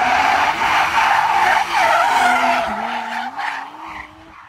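A Mazda MX-5 does a burnout, its tires squealing and skidding in a loud, sustained screech over the strained engine note, wavering and easing toward the end.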